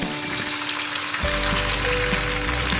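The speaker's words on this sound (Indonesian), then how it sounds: "Bentuk baksonya seperti ini, lalu kita goreng." Steady sizzling and crackling of chicken meatballs frying in hot oil over low heat, close by, with a low hum underneath; no one speaks.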